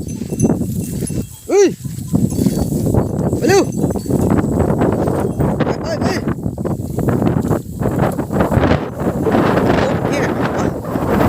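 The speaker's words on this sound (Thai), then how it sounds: "อาจจะมีปัญหาเรื่องลมครับเนาะเสียงอาจจะพอชัดนะ" Outdoor wind buffets the microphone in heavy, uneven gusts throughout, with two short animal bleats early on and people talking under the rumble.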